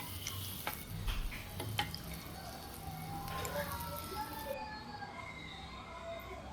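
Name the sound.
sautéing in a pan for village style mutton kulambu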